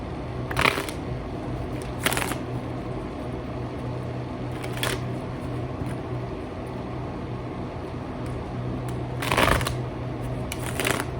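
A Nefertiti tarot deck is shuffled in several short, crisp riffling bursts spaced a few seconds apart, close by against a low steady hum.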